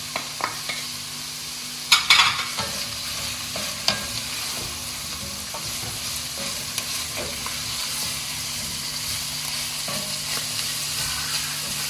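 Chopped cabbage and cauliflower tumble into a pot of kale, vegetable and beef soup, with a brief rustling clatter near the start and then soft stirring and gentle sizzling, and no one speaking.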